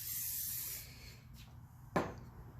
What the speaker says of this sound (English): Give her a good spray